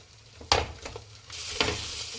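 Egg frying in a pan for egg rice gives a close, steady sizzle, with two sharp stirring scrapes over the bubbling hiss.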